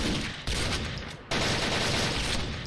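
An L85A2 rifle fires in a video game, with two loud bursts of rapid automatic gunfire broken by a short pause, the shots blurring into a continuous crackling roar.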